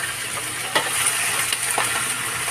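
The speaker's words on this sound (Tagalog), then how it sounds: "Lagay ko na yung buto-buto. Gigisa ko lang ng konti" Pork ribs sautéing in a pan give a steady, loud crackling sizzle, with a few brief stirring scrapes breaking through the continuous frying hiss.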